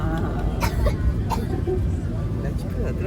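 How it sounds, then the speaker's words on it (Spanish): A woman seated behind on an airplane coughs and clears her throat several times amid the steady low rumble of the cabin, the coughs short and somewhat muffled. "La chica de atrás tiene un poquito de tos."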